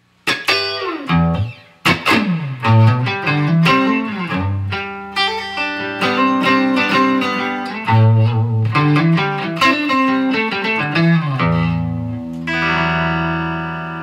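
LaVoce Z-Glide Custom electric guitar played through its neck single-coil pickup with effects, a run of picked notes and chords ringing with reverb and a sustained final chord, loud and alone with no talking.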